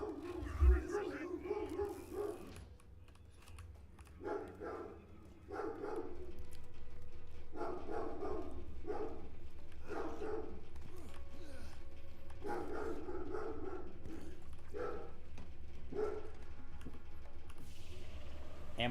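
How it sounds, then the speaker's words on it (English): A dog barks in a series of repeated bursts in the background of a room where a person is gaming, and speech is heard around the barking. "Dog is barking."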